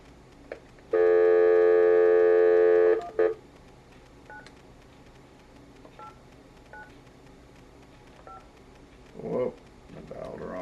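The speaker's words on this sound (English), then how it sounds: "Whoop, I dialed wrong. I hit the wrong number." Telephone keypad dialing tones: a loud two-second run of touch-tone beeps, a brief extra tone, then several short, quieter single beeps spaced over the following seconds.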